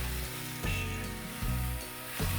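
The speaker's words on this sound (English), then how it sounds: "You can already smell that steak searing off on there" A steak sears on a grill with a steady, close sizzle over a low hum, swelling slightly in a few brief surges.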